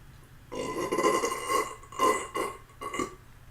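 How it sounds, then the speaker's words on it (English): A long, loud belch after drinking Pepsi cola, rolling out in several pulsing waves close to the mic with no talking. "I wonder if I can pull off a really good burp here"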